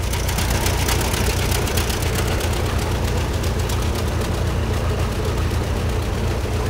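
An old tractor engine with a rebuilt motor runs steadily at an auction, a loud, continuous low rumble with an even, throbbing idle rhythm and no pauses.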